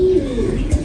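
A single pigeon coos close by, a short low throaty call that rises and falls and ends with a soft final note.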